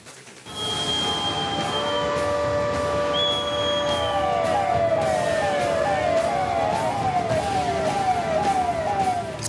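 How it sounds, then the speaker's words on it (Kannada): A warning siren wails during a civil-defence mock drill in Dharwad, rising and falling in repeated sweeps with a steady drone, loud and continuous outdoors. "ಸೈರನ್ ಸೌಂಡ್ ಮೊಳಗುತ್ತಿದ್ದಂತೆಯೇ ಓಡಾಡುತ್ತಿರುವ ಜನ"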